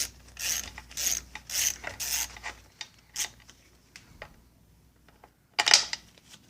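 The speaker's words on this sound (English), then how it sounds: "You can just undo the bolt and lay it off to the side." A bolt being loosened on a 9.9/15 HP outboard motor with a ratchet wrench: several quick rhythmic clicking bursts up close, a pause with a few faint clicks, then one last sharp ratcheting burst.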